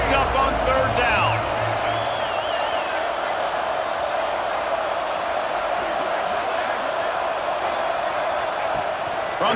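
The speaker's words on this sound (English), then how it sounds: "Crowd getting this defense whipped up on 3rd down." Stadium crowd in an NCAA college football video game, a broad steady roar of cheering that holds loud and constant, with a brief announcer-like voice at the start.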